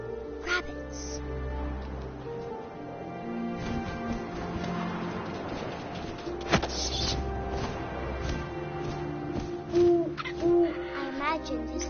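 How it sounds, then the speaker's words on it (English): An owl hoots in the video game What Remains of Edith Finch, soft calls set against a constant ambient bed of game music and wind, with faint small noises scattered through. "And suddenly, I was an owl."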